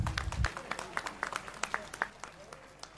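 Scattered, fairly sparse hand claps from an audience at a student awards ceremony in a Kolkata hall, irregular sharp claps over a couple of seconds, fading toward the end.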